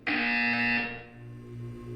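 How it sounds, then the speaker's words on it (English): A loud, steady electronic buzzer from the Portal 2 video game sounds alone for about a second, then cuts off, leaving a low hum. "You will hear a buzzer."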